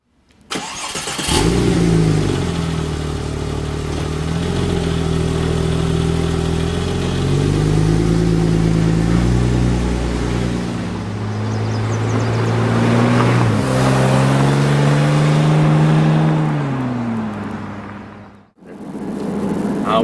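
A Porsche 911 996 Turbo coupe moving through stop-and-go commuting traffic, its engine humming steadily from inside the cabin, pitch easing down and climbing again as it slows and pulls away, then briefly dropping out near the end.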